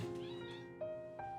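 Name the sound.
cat meowing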